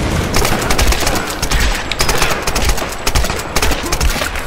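Assault rifle fire crackles during a Tomb Raider ambush, with dense overlapping shots rattling steadily and loudly throughout, no voices over it.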